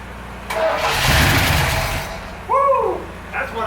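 A 1951 Ford truck engine cranks over on a jump-start for a couple of seconds, then fires briefly, followed by a couple of short revving bursts, close and fairly loud.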